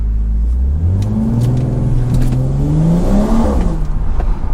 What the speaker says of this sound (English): I'm hearing the turbo spool like crazy